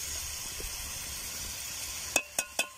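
Camel meat frying in a pan in a desert cooking setting, a quiet continuous sizzle with faint scraping, ending in three sharp knocks or clanks from the stirring utensil against the pan.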